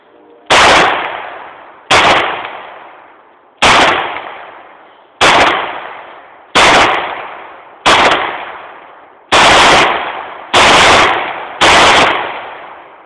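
Nine sharp, loud pistol shots from a Taurus PT92 AFS 9mm at an outdoor range, spaced roughly a second or more apart, each a hard crack followed by a short echoing decay, with no talking.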